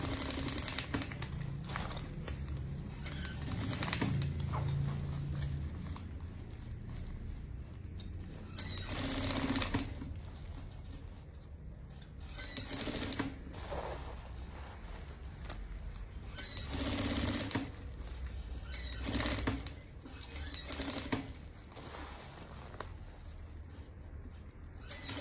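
A sewing machine stitches a fabric bottle holder with a carrying strap, running in steady bursts that start and stop every few seconds, close and moderately loud, with no talking.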